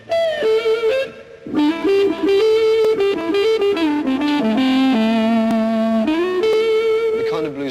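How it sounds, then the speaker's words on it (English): Electric guitar with the tone control rolled down to get a dark, whining, sustained 'woman tone', playing a fluid lead line of bends and held notes, loud and close, with no talk. "Characteristic of your particular playing is a kind of whining noise usually described as woman tone."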